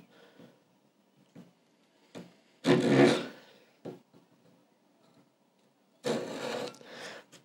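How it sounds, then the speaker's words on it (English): A PAX pull-cut fretting saw cuts fret slots in a guitar fingerboard along a scored line, giving quiet scattered rasping strokes with a couple of longer, louder sawing bursts between pauses. "the PAX fretting saw is a pull cut. So, I'm just following the line that I have scored earlier."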